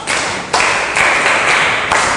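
A primary school class in Nigeria claps briefly for a pupil, a short burst of dense, close applause with a few sharp accents, no talk.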